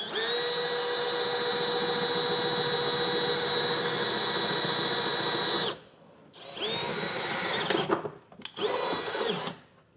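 A power drill whines loudly and steadily for several seconds, then stops and restarts in two shorter bursts as the bit bites through metal while mounting a fifth wheel trailer hitch.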